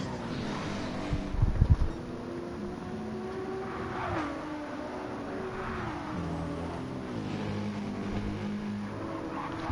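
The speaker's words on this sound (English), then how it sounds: "they're all bouncing in the rev limiters" Gr3 racing cars in a Nürburgring 24h sim race, engines droning and bouncing off their rev limiters in a steady buzzing whine, with a brief louder thump early on and no talk.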